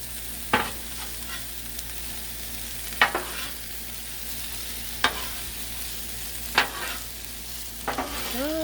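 Peppers and vegetables fry on a Blackstone griddle, giving a steady soft sizzle. A few sharp scraping stirs of a spatula cut through it at spaced intervals.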